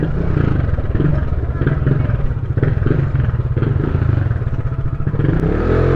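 A motorcycle with Brembo calipers pulls hard while riding, its engine throbbing in a fast, loud, gritty pulse that climbs in pitch near the end, with wind rushing over the microphone.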